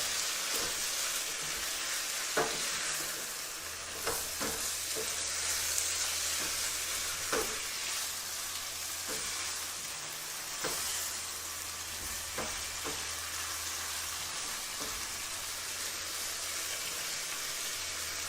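Chicken pasta sauce frying in a hot pan with lemon juice, a steady dense sizzle throughout, broken by occasional scraping stir strokes and a low hum underneath, close and unbroken.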